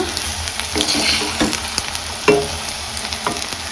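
Egg rice is stirred in a frying pan, with a steady sizzle under repeated scraping and clinking of the spatula against the pan, close and fairly loud.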